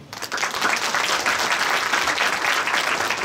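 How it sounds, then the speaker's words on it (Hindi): Audience at a spiritual speech on Shoolini Durga sadhana bursting into dense, steady clapping, loud and close for a few seconds with no talk over it. "अगर ये बात सही है तो एक बार ताली बजा दो।"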